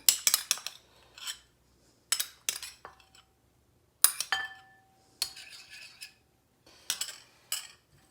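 A whisk or spoon clinks sharply against a bowl in quick bursts while olive oil, orange juice and seasoning are mixed, close ringing taps separated by short pauses.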